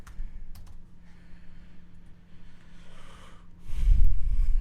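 Someone types on a computer keyboard during a podcast game, soft scattered clicks in the first half, then heavy breathing or snorting noise close to the mic.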